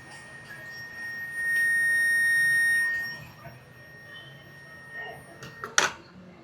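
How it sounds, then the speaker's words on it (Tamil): A low-cost digital multimeter sounds a steady, clear continuity-test beep lasting about a second and a half, followed by faint handling clicks and a sharp tap near the end, with no talk. "இப்போ பாருங்கள், பீப் சவுண்ட் உங்களுக்கு கேட்கும்னு நினைக்கிறேன்."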